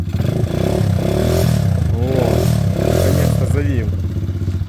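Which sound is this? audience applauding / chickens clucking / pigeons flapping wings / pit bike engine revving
pit bike engine revving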